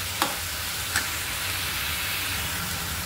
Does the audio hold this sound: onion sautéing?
yes